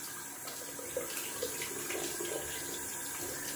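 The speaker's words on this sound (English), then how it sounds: "Then I wash my hand." A hand being washed under running tap water at a sink, a steady close hiss and splash with small shifts as the hand moves through the stream.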